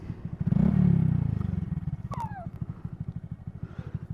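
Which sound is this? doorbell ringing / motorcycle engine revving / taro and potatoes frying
motorcycle engine revving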